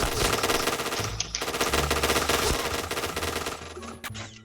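Sustained automatic gunfire in the shooter game Point Blank, during a bomb-plant match on the Safe House map, chatters in dense overlapping bursts with a few short gaps and scattered game effects.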